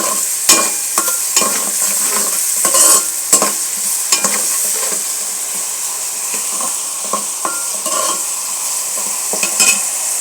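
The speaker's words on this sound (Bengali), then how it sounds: "নেড়ে নেব।" Rui fish curry stirred in a pan, with a steady close sizzle and irregular scraping clatters of the spoon against the pan, alone without talk.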